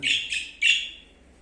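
A bird gives three quick bright chirps in close succession, fairly near and clear, then quiet.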